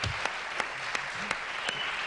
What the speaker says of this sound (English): We have the home of cheap applause.